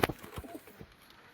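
Kalshira pigeons in a loft give a brief, close coo at the start, followed by faint soft calls and rustling.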